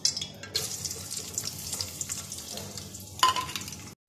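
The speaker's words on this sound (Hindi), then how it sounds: "अब मैं इसमें प्याज डालूँगी।" Onions going into hot oil for an okra (bhindi) curry, giving a steady frying sizzle with stirring scrapes and a sharper burst of sizzle near the end, close and fairly quiet, with no talk.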